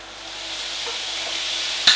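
Cauliflower fried rice with a splash of soy sauce is stirred in a hot pan, a steady close sizzle with scraping movements that swells briefly into a sharper hiss near the end.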